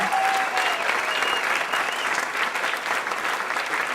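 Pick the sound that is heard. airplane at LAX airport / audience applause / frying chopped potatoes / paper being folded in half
audience applause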